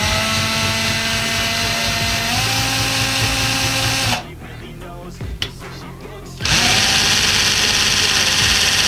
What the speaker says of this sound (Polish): Wkręciłem do wkrętarki i tutaj dzieje się cała magia.